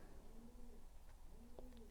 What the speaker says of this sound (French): c'est un pigeon à ma fenêtre.